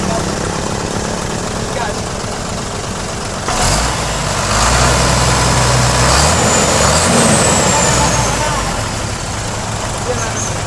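Hino truck engine running with a leaking radiator and smoke coming out, a loud, steady, close rumble that grows slightly heavier partway through, with people talking over it.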